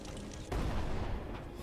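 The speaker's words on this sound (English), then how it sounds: "Fireworks are the pinnacle of undercover operations." A firework explodes with a sudden deep boom in the VR video game I Expect You To Die 3, followed by a rumbling decay and crackle, fairly loud and close.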